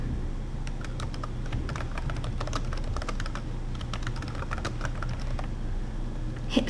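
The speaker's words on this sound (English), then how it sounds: "Type in the name of the book," Fingers type on a computer keyboard in quick, irregular bursts of light clicks, close and fairly quiet over a low steady hum, with no talking.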